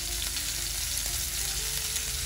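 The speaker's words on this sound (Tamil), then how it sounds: "அஞ்சு நிமிஷம் நல்லா ஃப்ரை பண்ணியிருக்கேன், இப்போ அதை எடுத்துடலாம்." Potato and cauliflower pieces frying in a pan give a steady close sizzle and crackle throughout, with no talk.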